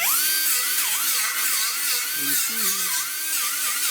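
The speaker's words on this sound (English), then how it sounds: "he's grinding on the panel there. That deck plate that we're working on, getting all the welds out of there." An angle grinder grinds welds out of a rusty rear deck panel, a steady high whine that wavers in pitch as the tool keeps moving, with someone talking over it.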